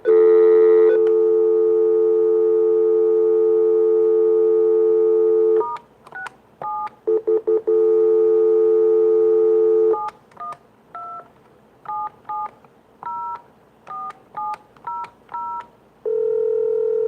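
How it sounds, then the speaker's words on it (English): A telephone dialing into a conference call line: a steady dial tone, then a quick run of DTMF keypad tones in short separate beeps, with brief gaps and a tone at the end. Clear and close, with no talking. "we're going to dial into the number at this time"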